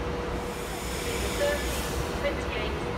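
A train pulls out of Wigan North Western station with a steady, close rumble of rolling stock and a faint wheel squeal partway through.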